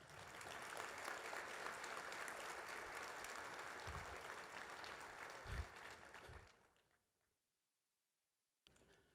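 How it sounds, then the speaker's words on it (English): Sustained applause from a large audience at a charity breakfast fills the room for several seconds, then fades out into near silence before a brief sound at the end. "Can we give all the volunteers this morning a round of applause?"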